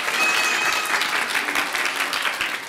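Audience applause at a Korean book concert with cello performance, a dense, steady wash of many hands clapping close by that holds throughout and eases slightly at the end, with no talking over it.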